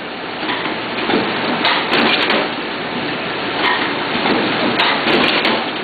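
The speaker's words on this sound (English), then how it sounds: "Folder is folding it." A Bourg BST10 collator bookletmaker folds a stitched booklet, giving a dense, continuous mechanical clatter and rustle with a few louder knocks over steady machine noise.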